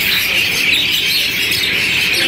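Dense, continuous chirping and tweeting from many small caged birds, including canaries and lovebirds, at a bird market in Basra, a busy high-pitched chatter with no pauses.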